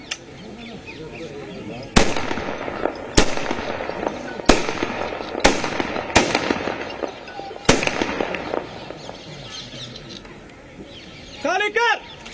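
Sharp rifle volleys ring out one after another in a ceremonial gun salute at a state funeral in India, six or seven loud cracks spaced about a second apart, each echoing away, with shouted commands and crowd noise around them.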